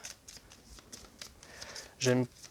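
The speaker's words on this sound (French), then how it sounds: "Dans le cas du capitaine, on va brasser ces cartes." Deck of cards from the Nemesis board game being shuffled, a short loud riffling burst after a stretch of quiet table noise and faint voices.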